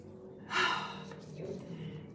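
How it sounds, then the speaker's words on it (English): One deep breath drawn in through the nose after ylang-ylang essential oil is applied, a short breathy inhale followed by a softer exhale, close and quiet. "I'm not missing an opportunity to apply my ylang-ylang and breathe that in"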